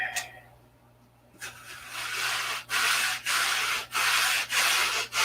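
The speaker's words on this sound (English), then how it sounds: "So light sanding on that." After a brief quiet moment, a series of light, even back-and-forth hand-sanding strokes on a wooden mold, rhythmic and close, about one stroke every half second.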